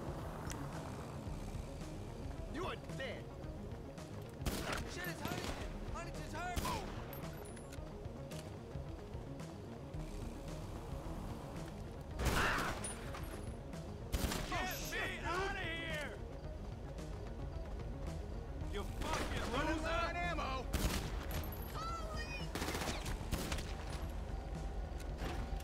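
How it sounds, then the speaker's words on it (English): AP pistol shots in GTA Online, sharp scattered cracks at irregular intervals over steady game ambience, with people talking throughout. "And the AP pistol is really good. I like the sound effect of it."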